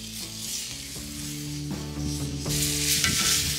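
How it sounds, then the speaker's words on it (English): Picanha steaks searing in a screaming-hot cast iron pan over charcoal, a steady loud sizzle with crackling spatter that intensifies toward the end, mixed with a low tonal hum. "get this cast iron screaming hot so that we can sear these things off"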